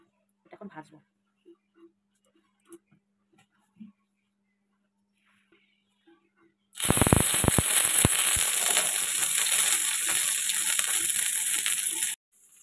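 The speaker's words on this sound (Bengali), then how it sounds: "এটা এখন ভাজবো" Fish paste with two added leaves drops into hot oil in a pan and sizzles loudly, a dense steady frying crackle that runs for several seconds after a few quiet kitchen clinks, then stops abruptly.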